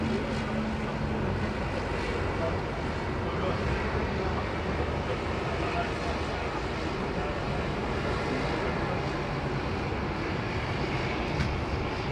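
An aircraft taking off from runway 34 left at Sydney Airport, a continuous broad roar of engine noise held steady and loud throughout, heard from a distance without any talk.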